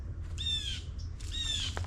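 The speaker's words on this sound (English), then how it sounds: "I think it's probably like a crow or a raven because it's like, ah, ah, ah." Crow or raven on a Florida hiking trail, two harsh raspy caws in quick succession, fairly close and clear over a low outdoor background hum.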